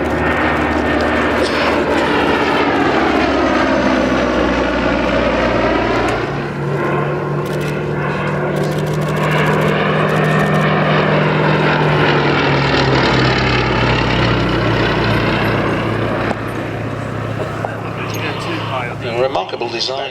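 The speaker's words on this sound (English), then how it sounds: "Still remarkable to see our single Westland Lysander." A single Westland Lysander propeller aircraft flies past at an airshow, its loud radial engine drone rising and falling in pitch as it passes, with an announcer talking over it.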